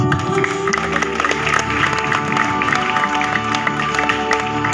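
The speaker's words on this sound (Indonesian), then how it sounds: "Tepuk tangan yang paling meriah" Loud applause from a church congregation at a revival service, dense clapping and crowd noise filling the room, mixed with lingering music tones and occasional voices.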